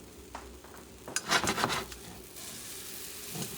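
Pancake batter cooks in a buttered pan over heat lowered just below medium, giving a soft, steady sizzle with a brief clatter of utensil scraping partway through.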